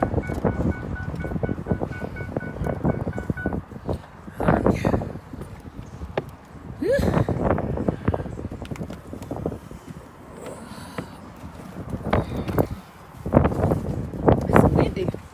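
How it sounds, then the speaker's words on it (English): Gusty outdoor wind buffets the microphone in irregular low thumps and rumbles, coming and going in bursts while people chat nearby. "It's windy."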